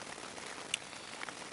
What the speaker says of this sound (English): the wind is strong. The rain is even stronger.